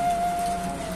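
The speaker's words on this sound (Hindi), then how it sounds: "यहाँ पे बारिश हो रही है" Heavy rain falls in a village on the road to Sinthan Top in Kashmir, a brief, loud, steady hiss with a faint constant hum underneath.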